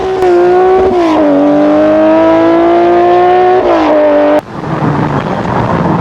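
A Porsche 911 SC-RS Group B rally car with a rear-mounted flat-six, rear-wheel drive, drones loudly at near-steady revs, dipping briefly, then cuts to a rougher, noisier roar.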